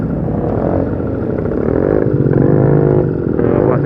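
A classic Yamaha motorcycle rumbles past close by, its loud, steady engine note swelling and wavering over about four seconds with a faint clatter underneath.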